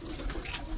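Pigeons cooing in a loft full of birds kept for sale, high-flyer breeds among them. A short burst of low, soft coos sits under a steady background of rustling.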